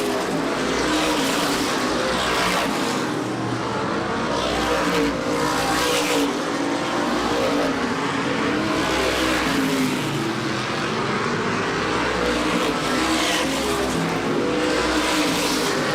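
Race cars in the 2005 MRS Star 100 roar continuously around a speedway, engines whining and surging as they pass, loud and sustained with no break.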